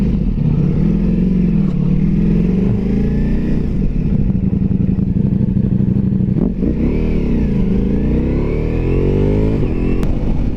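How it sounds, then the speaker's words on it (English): Ducati Multistrada V4 Pikes Peak with a full exhaust, a loud, close V4 engine droning steadily and then revving and rising as the bike accelerates on the road, with no talking. "that is the full exhaust you hear, so that sounds pretty good"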